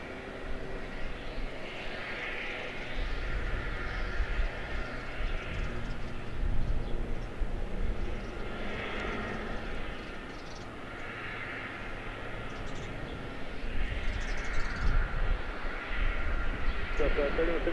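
Airbus A320-232 airliner taxiing at Charlotte-Douglas International Airport, a steady droning engine hum that swells and recedes over a continuous outdoor background with faint radio chatter.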